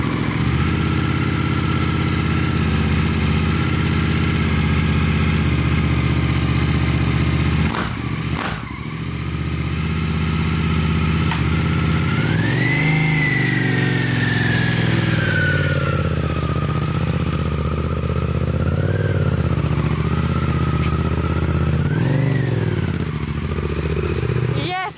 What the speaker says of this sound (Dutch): nou dan kijken hoe mijn motor het doet